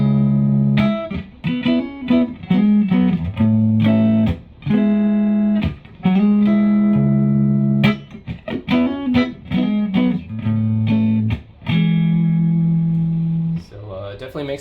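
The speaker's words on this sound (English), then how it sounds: "It's more of just a clean boost type of sound." Electric guitar played through a Lightkeeper overdrive pedal set as a clean boost: bright strummed chords and picked phrases, loud and close, with short pauses between bursts and a ringing chord trailing off at the end.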